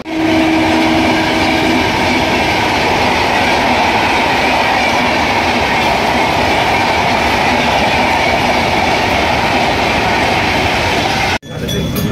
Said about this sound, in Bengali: ঘড়ির কাঁটায় ঠিক 2 মিনিট পরে আমাদের ট্রেন কামারকুণ্ডু স্টেশন ছেড়ে রওনা দিল তার পরবর্তী হল্ট বর্ধমান জংশনের উদ্দেশ্যে।